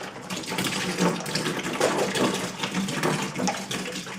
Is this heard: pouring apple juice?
yes